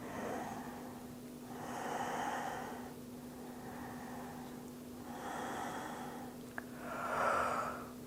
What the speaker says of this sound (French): la respiration de feu